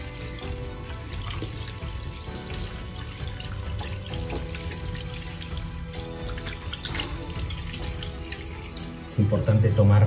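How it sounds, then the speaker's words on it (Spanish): Water runs steadily from a faucet into a sink, a continuous splashing hiss that grows louder and heavier just before the end. "Entonces abrimos el grifo."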